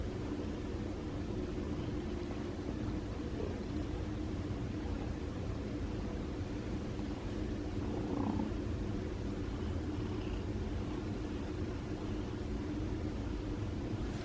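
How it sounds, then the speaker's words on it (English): An injured, recovering feral cat purrs loudly and steadily up close, rumbling continuously for the whole stretch, with no talking. "He's purring loud."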